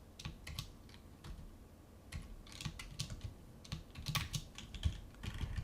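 Fingers typing code on a computer keyboard, quick irregular bursts of clicky keystrokes with short pauses between runs, close and fairly quiet.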